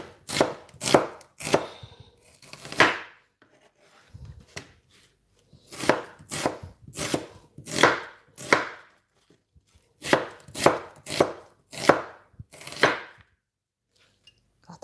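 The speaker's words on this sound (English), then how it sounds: "So I'm just going to just roughly, I'm not going to chop them, I'm just going to slice them" A knife slices roughly through onions on a board for a slow-cooker Taiwanese pulled beef dish, giving crisp, close chopping strokes in quick bursts of three to five with short pauses between them.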